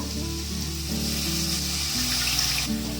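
A little water from a rinsed grinder jar poured into a pan of frying spice mixture, a steady hiss and bubbling sizzle over a low hum, continuous throughout.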